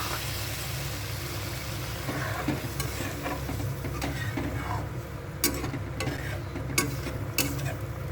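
Prawn and pumpkin curry with added water coming to a boil in a pot, a steady low bubbling simmer with a few sharp ticks and clinks, close and without talk.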